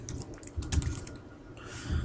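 Quick, irregular keystrokes clatter on a computer keyboard, close and fairly soft, with a few heavier taps, no speech.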